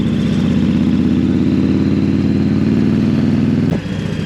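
A 2022 Indian Challenger Dark Horse motorcycle under way, its engine a loud, steady low drone with a pulsing beat, close and continuous, easing off briefly near the end.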